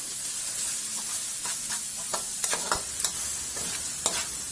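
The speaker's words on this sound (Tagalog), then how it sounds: "Igisa lang natin yan until mapapansin mo na nagmamantika na yung ating tomato paste." Tomato paste fries in oil for pork menudo. A constant bright sizzle and hiss fills the pan, and a few soft stirring scrapes stand out toward the end. No voices.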